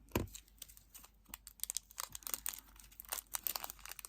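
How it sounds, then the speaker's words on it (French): Small plastic packet torn open by hand, a brief crinkly rip followed by scattered crackling and rustling, close and fairly quiet with no talk. "On va ouvrir donc notre autre sachet."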